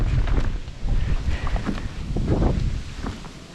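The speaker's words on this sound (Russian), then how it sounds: "Мешает катастрофически сегодня ветер нам рыбачить" Gusty wind buffets the microphone with low rumbling roar and rustling, steady and close throughout, with no voices, on a Siberian river from a fishing boat in late autumn.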